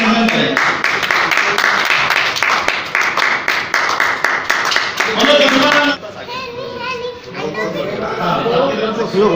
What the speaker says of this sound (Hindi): बहुत बहुत ताली बजाकर स्वागत